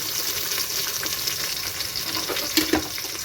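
Onions and four green chillies sautéing in a pan for a Sunday biryani, a loud continuous hissing sizzle close by with a couple of stirring clinks near the end, no voices.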